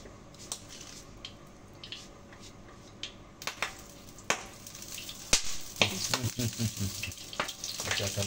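Food fries in hot oil in a home kitchen, crackling and spitting steadily with scattered pops, then louder bursts of sizzling and stirring clatter toward the end.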